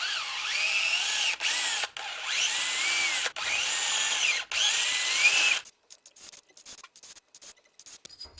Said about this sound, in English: I'm gonna have to drill out these holes a little bit